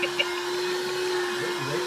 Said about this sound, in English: Do you like the Hoover?